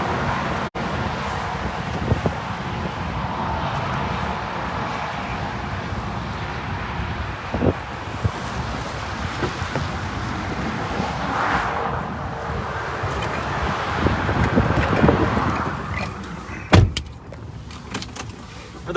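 Interior of a moving car on a road near the Mt. Juliet Road bridge, with a steady broadband road and engine rumble and wind hiss throughout, a few brief clicks and thumps, and no talking.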